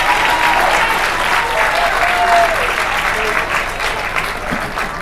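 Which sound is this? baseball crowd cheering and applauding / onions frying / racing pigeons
baseball crowd cheering and applauding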